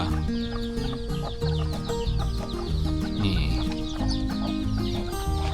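Fighting-breed chickens on a Thai farm cluck and call in short repeated bursts, fairly close, over a dense hum of background noise with no talk.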